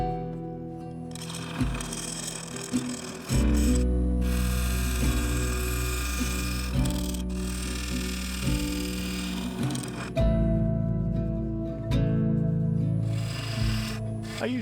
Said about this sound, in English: I used the skew to do most of the shaping, with a bit of work from the bowl gouge to remove the heavier ridges.